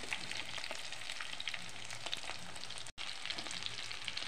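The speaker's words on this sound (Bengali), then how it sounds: "লাল লাল করে ভেজে নেব।" Chicken frying in a pan until browned, a dense, steady crackling sizzle close up with bright popping spatters throughout and one brief dropout near the end.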